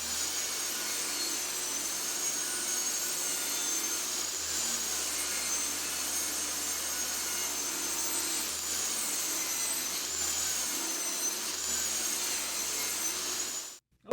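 Power saw ripping 1-inch-wide strips lengthwise from wooden fence pickets, a steady loud whine with a hissing high cut that runs continuously for about fourteen seconds before stopping abruptly.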